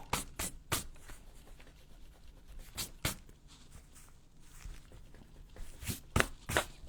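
Eraser rubbing chalk pencil marks off a journal cover, close, in short scratchy bursts separated by pauses, quiet between strokes.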